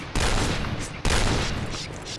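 Video game gunfire: two sharp bursts of loud, close shooting, each starting abruptly and tailing off.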